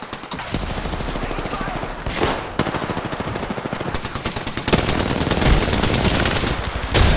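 Apex Legends multiplayer gunfire rattles in sustained, rapid automatic bursts of spray fire, loud and close, with brief gaps and a few heavier single shots throughout.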